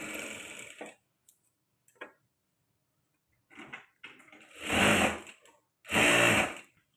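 A sewing machine stitches blouse fabric in two loud close bursts of whirring, preceded by faint clicks and brief softer runs, with quiet gaps between.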